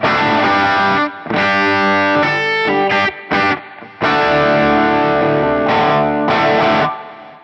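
Distorted electric guitar on humbucker pickups through a Fractal modeler, loud crunchy chords and riffs in short phrases with brief gaps between them, played alone in a classic rock, bluesy style.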